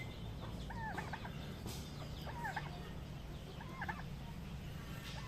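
Chickens, including Rhode Island Reds, clucking near a turkey in a backyard flock, with three short bursts of clucking calls at a steady pace over a constant low rumble of background noise.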